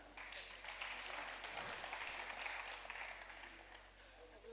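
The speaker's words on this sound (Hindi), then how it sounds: "इस मंच के लिए तालियां।" An audience at a Hindi literary and journalism awards ceremony claps for the stage, a sustained, fairly faint patter of many hands over a low hum.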